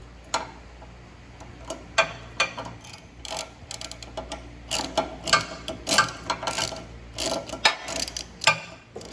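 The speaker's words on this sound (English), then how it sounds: "now we need to remove these 3 bolts. They take a 5mm Allen socket to remove." Bolts are removed with a ratchet and 5mm Allen socket on a Fiat 500 Abarth: irregular bursts of quick clicking ratchet strokes, close and fairly quiet, with short pauses between runs and no talk.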